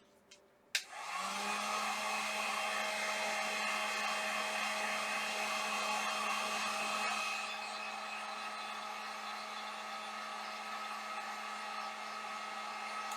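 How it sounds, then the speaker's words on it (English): A heat gun blows hot air to dry glue: a steady, close, continuous rushing whoosh that starts just after a brief click near the beginning and runs unbroken, easing slightly softer about halfway through. "heat gun."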